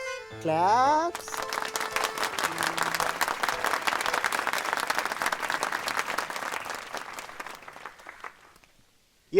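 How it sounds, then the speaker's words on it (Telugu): An audience breaks into applause in a Telugu movie scene after a short rising musical sting, the clapping swelling into a dense, sustained roar and then gradually thinning and fading out. "క్లాప్స్."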